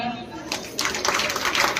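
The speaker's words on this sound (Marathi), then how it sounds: "चला जोरात टाळ्या" An audience at a Paithani game event in Ram Nagar Sainik Wadi claps loudly, a burst of dense clapping starting partway in and continuing to the end, mixed with nearby voices.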